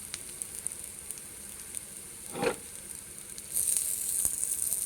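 Instant wheat ponganalu frying in a ponganalu pan, a soft steady sizzle with a brief scrape in the middle and louder crackling toward the end.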